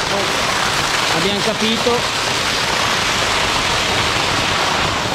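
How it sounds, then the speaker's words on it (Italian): Water pouring from a road drain down beneath a bridge, a loud, steady rushing roar throughout, with someone speaking briefly over it. "ci sono delle secchiate d'acqua che fanno paura"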